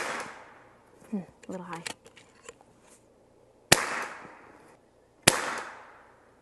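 An FX DRS Classic .22 air rifle fires pellets in a backyard, two sharp, close shots a second or so apart, each with a short decaying tail, following brief talk.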